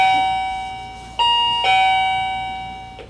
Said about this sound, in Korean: 불쑥 울리는 초인종 소리.